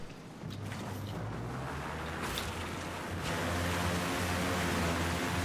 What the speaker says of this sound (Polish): Ależ fajny odgłos silnika tego poduszkowca.